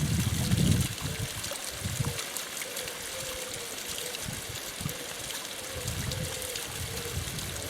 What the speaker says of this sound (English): because it's got a little waterfall right opposite